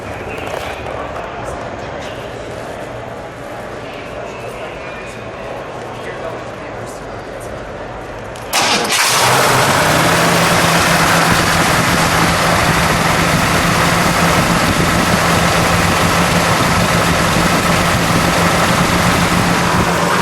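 A black 1968 Shelby Mustang GT500 convertible with its 428 engine catches at once and settles into a loud, steady, rumbling idle close by, after a quieter stretch of background murmur and faint talk.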